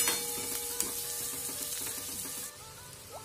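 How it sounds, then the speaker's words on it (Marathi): Chopped onion frying in a pan with cumin, the first step of dal makhani: a steady, even sizzle throughout with faint stirring scrapes and no talking. "कांद्याला चांगलं ब्राउन करून घेऊ"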